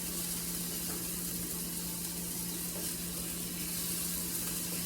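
Steady, dense sizzling of venison burger patties frying in a hot skillet, a continuous crackling hiss with a low hum underneath and no talking.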